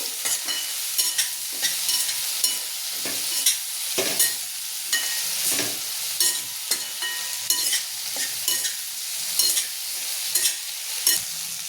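Okra stir-fry with salt being stirred in a pan, loud repeated spatula scrapes and taps over a continuous close sizzle, steady rhythm for several seconds.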